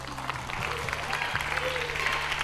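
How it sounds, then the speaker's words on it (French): Audience at a school quiz competition claps for the contestants, a brief burst of crowd applause with some background murmur and a low hum. "On peut applaudir pour eux."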